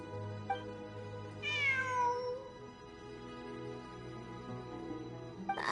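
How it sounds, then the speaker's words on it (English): A cat meows in the video game Genshin Impact, one clear meow near the middle, a long rising cry, with a shorter call at the start and another at the end over a soft steady game background. "It really is a cat."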